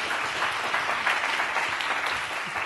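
An audience applauds to welcome the painter Sandow Birk at an artist talk, a steady, dense wash of clapping that fills the room evenly for a few seconds with no voices on top.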